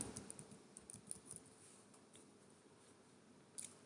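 A computer keyboard is tapped in short, faint bursts while data is entered into HR payroll software, soft clicks over a quiet hiss.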